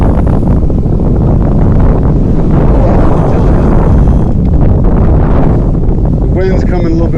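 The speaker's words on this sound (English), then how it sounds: "The wind's coming a little bit more now." Wind at Miyagase Lake buffets the microphone in a loud, continuous rumbling roar that swells and eases, with a short burst of other noise near the end.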